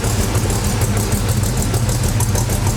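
A 1965 Chevy C10 custom pickup idles close by, a loud, steady low rumble with an even pulsing throb and no talking over it.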